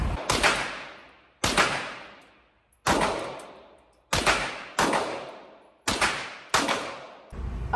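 Seven single shots from a costly gun at shooting practice, each a sharp loud crack with a ringing decay, fired at a steady pace about a second apart.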